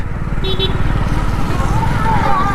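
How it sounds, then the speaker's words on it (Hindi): Motorcycle ridden through a pothole while shifting down a gear, its engine running as a steady low rumble under continuous talk, with no distinct shift change standing out. "तो जैसे एक गड्ढा सा आया तो मैंने एक गियर डाउन शिफ्ट करते हुए निकाल दी बाइक।"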